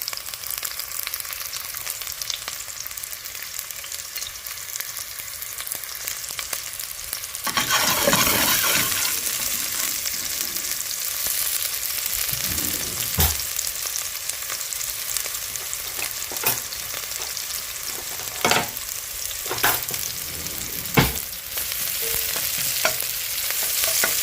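Onion fries in a pan with a continuous sizzle that swells after a few seconds, broken by occasional scraping stirs and light clinks of a utensil.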